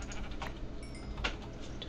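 A sheep in a video game bleats several times in short wavering calls, fairly faint against a quiet background.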